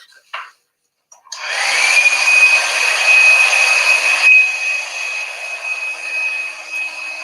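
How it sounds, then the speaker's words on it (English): A loud hair dryer whirs to life after a brief knock, settling into a steady high-pitched blowing hum that runs continuously to the end. "I love how her camera adjusts the sound when it's too loud from your hairdryer."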